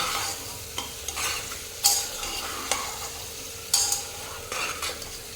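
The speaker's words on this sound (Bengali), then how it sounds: "কুকারে যেহেতু খুনতে থেকে নাড়াছাড়া করছে আওয়াজটা একটু হচ্ছে" Mutton being stirred with a metal spatula in a pressure cooker over high heat: soft, steady sizzling with repeated scraping strokes and occasional sharp clinks against the pot.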